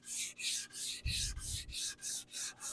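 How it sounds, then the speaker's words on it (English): Guitar wood veneer lightly sanded by hand with folded 600 grit sandpaper, a steady, soft back-and-forth scratching in even strokes, about eight passes, close and quiet with no talk. "So I'm going to use 600 grit on this. Top, I always fold it in half, just lightly sanding,"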